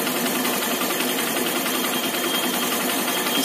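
A Honda Shine motorcycle idles after its carburettor jet has been cleaned. The engine holds a dense, even hum with a fast steady beat, close and loud, and runs without pause or any voice.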